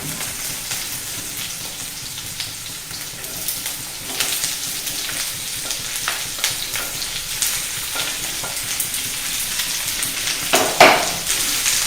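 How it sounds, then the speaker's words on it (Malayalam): Onions sautéing in oil with a pinch of salt for an Indian Coffee House style masala dosa filling, a steady close sizzle with occasional spatula stirs and a louder scrape near the end, no talking. "ആദ്യം സവാള ഇട്ടു സവാള ഇടുമ്പോൾ നല്ലപോലെ വഴന്ന് കിട്ടാനായിട്ട് ഇച്ചിരി ഉപ്പിട്ടു"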